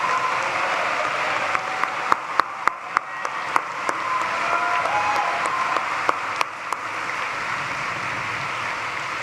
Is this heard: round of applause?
yes